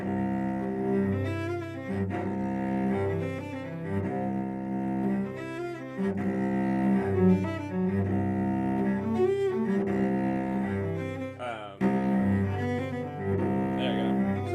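Solo cello plays the Lee Etude Op. 57 No. 1, a continuous bowed passage with sustained tones and quick running figures at steady volume, close and clear with no talking.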